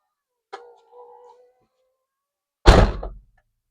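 A car door slams shut with a single solid thunk near the end, preceded by a brief squeak or creak, with near silence otherwise.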